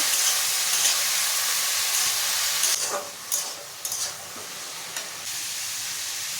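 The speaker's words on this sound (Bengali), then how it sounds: "কেটে রাখা চিচিঙ্গাগুলো দিয়ে দেব। কিছুক্ষণ ভাজতে থাকবো।" Chopped snake gourd pieces frying in oil with cumin seeds in a pan, a steady loud sizzle and hiss broken by a few scraping stirs of a spatula partway through.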